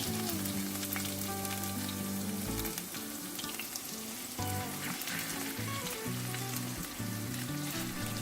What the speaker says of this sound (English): pour in enough cooking oil. Don't hesitate to pour in the oil, at least over 6 spoons, and wait for the pan heat up enough again